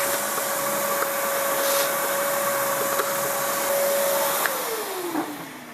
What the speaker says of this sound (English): figure I vacuum in here. There's a ton of dust in there, so let's do that.